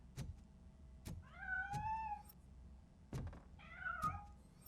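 A cat meows twice in RoboCop: Rogue City, two drawn-out harmonic calls set between sharp thunks and knock-like impacts, heard fairly close with no talking.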